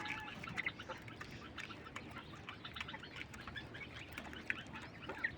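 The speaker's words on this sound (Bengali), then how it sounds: "এটা হচ্ছে ওই পাখি ইউরোপিয়ান হোয়াইট জায়ান্ট কটনিক্স।" European White Giant Coturnix quail, about 40 days old and feeding, give a steady stream of chirps and clucking calls, close and fairly dense, with a few sharper peaks over a constant low background rumble.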